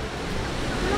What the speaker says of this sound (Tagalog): Tapos malakas yung alon.